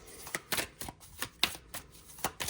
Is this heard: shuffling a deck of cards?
yes